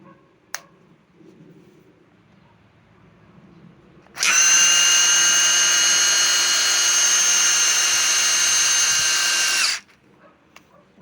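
A Metabo SB18 LTX hammer drill, made for drilling in steel, runs in speed 1 with a loud, steady high-pitched whine for about five seconds, starting and stopping abruptly after a single click amid near silence.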